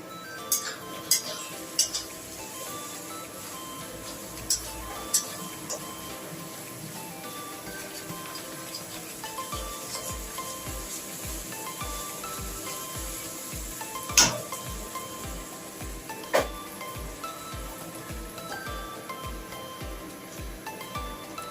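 Cumin and coriander powder being stirred in a pan for a mutton curry gives faint scraping and occasional sharp metallic clinks of a spoon against the pan, quiet and intermittent over a low background hum.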